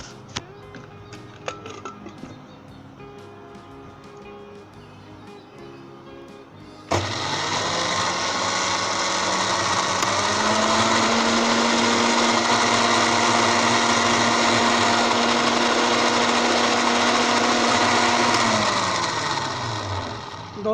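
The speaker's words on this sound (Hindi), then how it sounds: "दोस्तों आपने इसे इतना ग्राइंड करना है कि ये बिल्कुल स्मूथ पेस्ट के करीब बन जाए" A blender grinds sesame seeds with vegetable oil into tahini paste, starting abruptly after a quieter stretch and then roaring steadily and loudly for over ten seconds, its pitch shifting slightly before it winds down.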